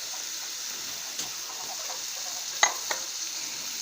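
Potatoes and broad beans sizzle in frying masala, a steady soft crackle of oil with a few brief clinks of a spoon against the pan, quiet and close, without talking.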